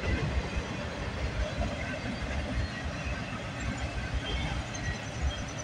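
A CN freight train rolls past with a BNSF locomotive in its consist, a steady close rumble of rail cars and wheels holding at an even level throughout.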